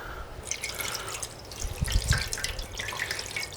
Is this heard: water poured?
yes